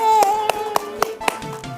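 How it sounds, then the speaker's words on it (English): Several people clapping hands in a steady even beat, about four sharp claps per second, with a voice and a whistle-like tone sounding over them. "Clap it up."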